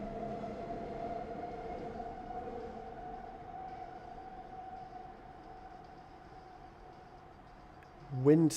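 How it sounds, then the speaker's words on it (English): An elevated Skytrain goes by as a steady, droning rumble with a high whining tone that slowly fades. A short, louder knock comes right at the end. "It's a big train that goes by in the sky."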